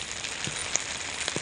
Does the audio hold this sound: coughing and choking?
no